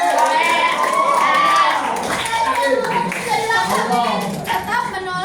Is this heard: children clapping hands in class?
yes